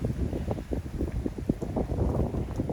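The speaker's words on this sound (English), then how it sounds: "it's definitely getting windy" Steady gusty wind rumbling across the microphone, a continuous low buffeting roar with no voices.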